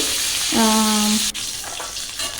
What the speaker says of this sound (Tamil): மிளகா போட்டதும் கறிவேப்பிலை போட்டு நீங்கள் பொரிச்சிட்டதும்